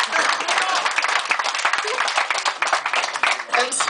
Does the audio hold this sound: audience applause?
yes